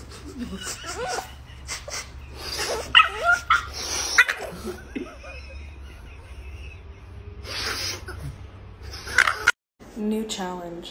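A dog reacts to being aggressively sniffed by its owner, giving short barks and whimpering yelps in close bursts, with human voices and rustling heard around it.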